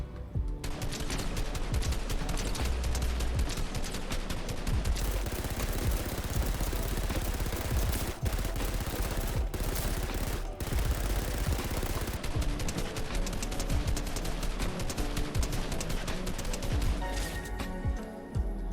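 A rifle fires continuously on a video game practice map, loud dense automatic bursts running almost without pause, with a couple of brief gaps, and no talking.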